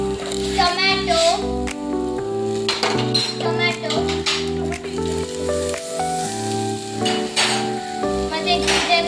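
Capsicum and tomato sizzle in a pan as ginger-garlic paste is stirred in for bread masala, a steady hiss with faint clinks of the spoon against the pan, partly under continuous background music.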